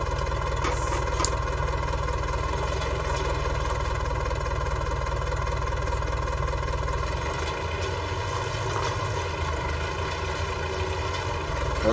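Tractor engine running steadily while drilling winter wheat in a field, a constant mid-to-low mechanical drone with a slight shift in tone partway through.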